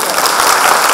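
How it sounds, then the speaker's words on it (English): Brief burst of applause from the audience at a business section meeting, a dense patter of many hands clapping together, close and steady for about a second. "At least one clap, please."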